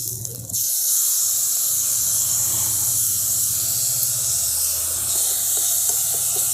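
Grated tomato drops into hot oil with spices in a pan and sizzles, a sudden burst of loud hissing that settles into a steady, bright spattering sizzle close by, with no voices.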